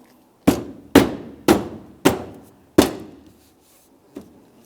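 A 2011–2018 Volkswagen Jetta front bumper cover is tapped into place: five sharp, evenly spaced hollow plastic thumps, then a lighter sixth knock, each ringing briefly in a quiet garage.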